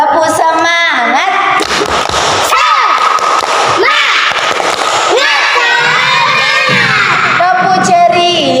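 A group of primary school children in a classroom claps sharply in a rhythmic pattern while chanting and shouting together, loud and close.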